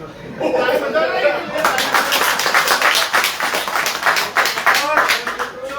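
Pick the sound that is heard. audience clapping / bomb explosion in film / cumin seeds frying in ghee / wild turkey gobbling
audience clapping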